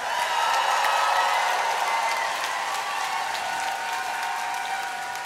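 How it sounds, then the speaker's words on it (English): Concert crowd at Toronto's Danforth Music Hall giving a big round of applause for an opening act, a dense, continuous wash of clapping that fills the hall and eases slightly toward the end. "A huge round of applause for our friends"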